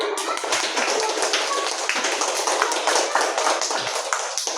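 Students in a classroom burst into dense, sustained applause, many hands clapping at once in a loud, steady wash that fills the whole moment without pause.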